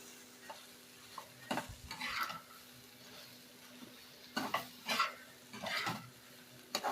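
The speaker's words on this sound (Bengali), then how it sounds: "মুড়িটা দিয়ে এর সঙ্গে কিন্তু আমি ভেজে নেব" Puffed rice tossed in a hot pan, with soft scraping stir strokes in bursts, a gentle rustling sizzle between them, two clusters of stirring separated by quieter frying.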